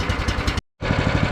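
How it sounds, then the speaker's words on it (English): Gas-powered mortar mixer engine running loudly close by, a dense rough mechanical drone broken by a brief full cutout of silence before it resumes. "Make sure it's on, gas, on, choke, on. All right, good to go. Pull."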